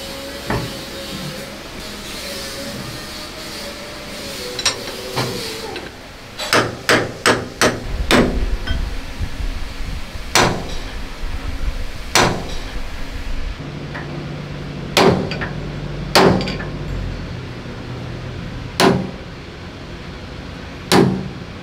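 Metal hammer blows strike a stuck shaft on a Mack gearbox from a WWII M3 Grant tank, arriving as sharp, loud, irregular hits, some in quick bursts and others spaced apart, over a faint mechanical hum.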